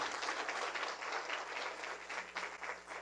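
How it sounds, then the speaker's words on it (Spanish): An audience at a panel discussion applauds the panelists, a dense, steady wash of clapping that fills the room from start to finish without a break. "un aplauso para ellos"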